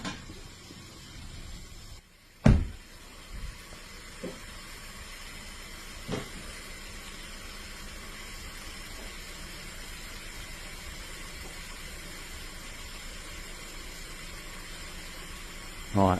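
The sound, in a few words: 2015 Volkswagen Golf 1.4 TSI engine running with misfire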